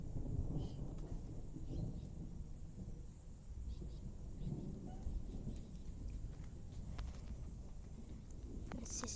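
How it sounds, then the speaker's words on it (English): Thunder rumbles in a steady low roar during a thunderstorm near a house, with rain falling throughout and faint voices underneath. "I have a thunderstorm near our house that we're moving from"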